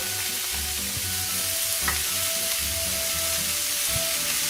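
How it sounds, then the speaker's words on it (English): Celery, onion, carrots and three garlic cloves sizzle loudly in a pot for a beef cheek ragu, a dense, steady frying hiss that runs the whole time with light stirring bumps underneath. "So I'm gonna add the vegetable here to the pot. We have celery, onion, and carrots here."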